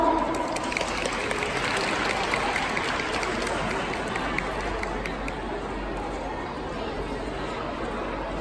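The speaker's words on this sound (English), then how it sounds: "Please clap the hands for our show." A school prom night audience at Surathampitak school in Korat claps, a dense steady patter of many hands that fades slightly toward the end, with crowd chatter underneath.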